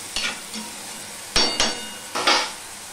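Potatoes fry in a pan for a drumstick (sajne data) curry, with a faint background sizzle. A few distinct spatula scrapes come in quick pairs, close and fairly loud, with quiet gaps between them.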